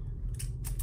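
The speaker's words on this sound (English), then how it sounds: "Let me grab some scissors" A pair of scissors snips through the packaging of a boxed scented candle, giving two or three quick, crisp cuts close by in a quiet room.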